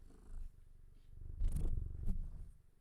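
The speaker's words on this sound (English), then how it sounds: "I gotta go love my cat." A house cat purring close up, a soft steady rumbling purr with a few louder swells and light rustles as it is cuddled.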